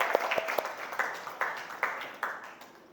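Classroom applause from students, a short burst of clapping that settles into a few distinct rhythmic claps, near and fading toward the end.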